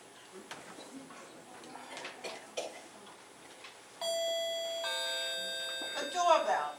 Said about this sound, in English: The doorbell.